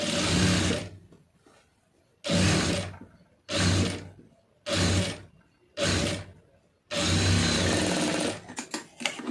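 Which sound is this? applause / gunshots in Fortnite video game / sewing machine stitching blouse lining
sewing machine stitching blouse lining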